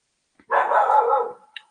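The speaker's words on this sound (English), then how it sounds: "I don't know why the dog is barking" A dog gives a single close, loud bark, a short rough burst with a faint yip right after, otherwise quiet.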